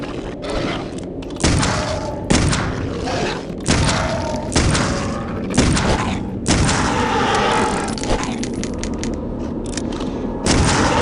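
Gunfire in Clive Barker's Undying, repeated heavy shots in close bursts roughly every second or two, loud and punchy with ringing, rumbling tails between blasts.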